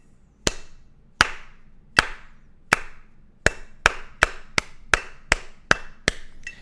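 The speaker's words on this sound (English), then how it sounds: "Now I'm just going to clap it one time so you can hear what it's going to sound like" Sharp hand claps ring out alone in a simple rhythm, a few evenly spaced quarter-note claps followed by a quicker run of eighth-note claps, each crisp and close with a short tail.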